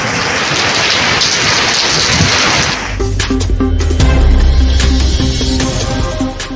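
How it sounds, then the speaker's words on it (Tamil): Heavy rain falls around Kodaikanal, a steady loud broadband hiss of downpour; partway through it gives way to rain under other sounds, with low rumbling and tonal background audio mixed in. "கொடைக்கானல் மற்றும் அதன் சுற்றுவட்டார பகுதிகளில் சுமார் ஒரு மணி நேரத்திற்கும் மேலாக மழை"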